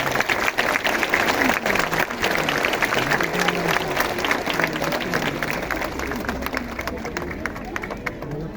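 A crowd of churchgoers claps steadily and dense at an Easter Sunday procession, with a murmur of voices and a faint melody running underneath throughout.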